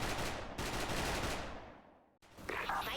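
CRESCENT FN FAL rifle fire at training targets in the Special Force video game, a loud sustained burst of rapid shots that fades out, a short gap, then firing picks up again.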